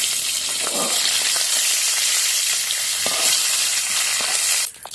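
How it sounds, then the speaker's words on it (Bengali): Shrimp frying in hot oil in a pan gives a dense, even sizzle close by, with a few stirring clicks, cutting off abruptly at the end. "তো দেখো চিংড়ি মাছগুলো হালকা করে ভেজে নিয়েছি"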